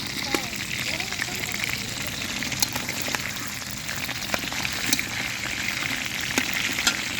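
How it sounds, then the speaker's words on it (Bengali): Pieces of chicken roast frying in oil on a stove while food is being cooked for a family aqiqa celebration, giving a dense, continuous sizzle and hiss with scattered crackles. "মুরগির রোস্ট ভাজা হচ্ছে এখানে।"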